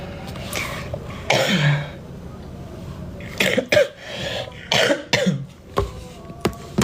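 Several harsh coughs and throat clearings come in irregular bursts, close to the microphone, with quiet pauses between them.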